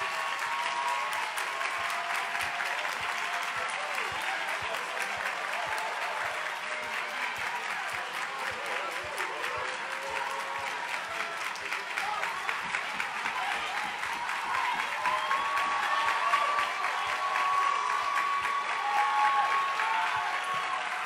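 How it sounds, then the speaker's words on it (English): A church congregation claps steadily and continuously for over twenty seconds during a lively service, the applause dense and sustained with faint crowd murmur, growing slightly louder toward the end. "you're going to clap for over 20 seconds and thank God for the success of your neighbor"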